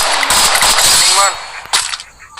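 Rapid bursts of gunfire in the game Free Fire crackle loudly, then fade to a few scattered shots, with a voice briefly heard underneath.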